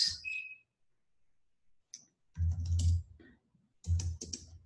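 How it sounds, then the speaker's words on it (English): Someone types a search into a computer keyboard in two brief bursts of close, crisp key clicks, with quiet pauses before and between them and a faint tick at the start. "So I'm just gonna type in QuickBooks."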